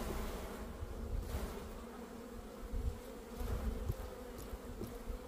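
Honeybees swarm around an open hive during a spring hive inspection, where frames full of brood, pollen and honey are snapped to shake bees off. The dense, steady buzzing is close and continuous throughout, with no voices.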